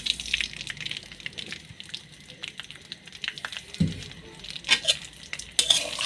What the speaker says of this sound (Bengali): আমি সিমাইগুলোকে ভালো মতো নাড়াচাড়া করে রান্না করে নেব।